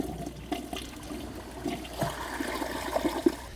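A budget Glacier Bay toilet flushes nearby, giving a short rushing gurgle of water draining from the bowl that swells toward the end, heard alone with no talking.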